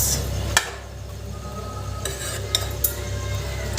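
A spoon stirring bottle gourd curry in a kadhai, giving a soft steady scraping with a few sharp metallic clinks against the pan. A faint sizzle runs underneath and nobody talks.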